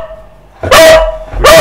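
A dog lets out two loud, close barks about a second apart over a faint steady background tone.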